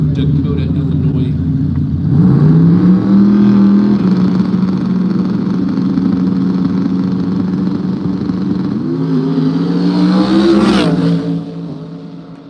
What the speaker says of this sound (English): 67 Chevy up against the Ford Mustang out of Dakota, Illinois.